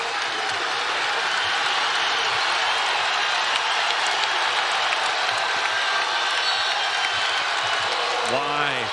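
A steady, loud home crowd roar fills a Memphis Tigers basketball game against Alabama, continuous noise with scattered claps and a sharp squeak near the end, as a commentator talks over it.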